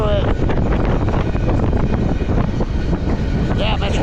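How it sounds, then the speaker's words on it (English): Strong wind roars and buffets the microphone continuously while riding on top of a moving freight train, a loud, dense, unbroken rush of blowing air. "Damn, it's windy up here."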